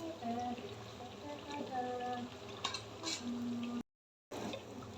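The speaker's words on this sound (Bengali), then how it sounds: "আমি একসাথে 5টা করে ফ্রাই প্যানে ভেজে ফেলে দিচ্ছি।" Oil pitha frying four or five at a time in a frying pan, a soft continuous sizzle and bubbling close by with brief utensil taps, cut by a short silent gap.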